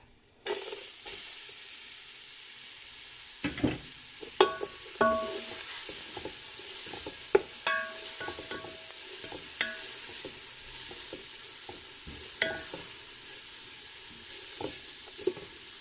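Carrots go into a hot pan with chicken for Bukhari rice and sizzle steadily, while a spatula scrapes and knocks against the pan in irregular strokes close by.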